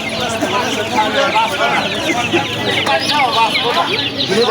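Baby chicks and ducklings crowd a busy poultry market at the Goalbari haat in Savar, keeping up a constant, loud chorus of high chirping and cheeping while people talk nearby.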